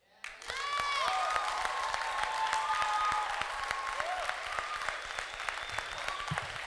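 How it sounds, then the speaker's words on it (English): Audience clapping for young poets and speakers at a Brave New Voices youth event, dense applause rising quickly and holding steady, with some tonal whistles or cheers threading through and a sharp sound at the start. "can you please keep that applause going for every young person that spoke today"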